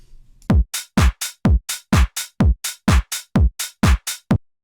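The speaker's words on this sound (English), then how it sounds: "I already made a really simple kind of drum loop with just a basic kick," Simple tech house drum loop programmed in FL Studio from pack samples, a punchy kick on every beat with clap and hi-hat layered in, steady and driving after a brief quiet lead-in, no voices.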